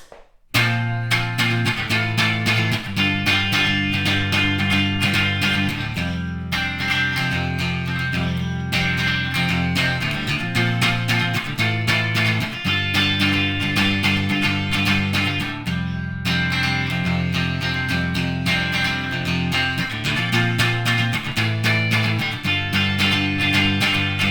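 An electric guitar plays a repeating chord pattern in a clean, undistorted tone, steady and fairly loud, with no one talking.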